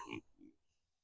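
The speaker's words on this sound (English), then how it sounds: "And then we got the pig." A pig on a homestead with goats gives a couple of short, close grunts, a louder one followed by a softer one, before the clip falls quiet.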